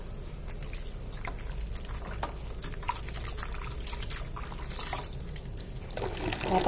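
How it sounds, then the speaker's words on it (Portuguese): Water pours steadily into a homemade liquid soap mixture of baking soda, salt, detergent and powdered soap, giving a continuous close trickling and splashing that grows a little louder near the end. "Dá pra colocar mais água ainda."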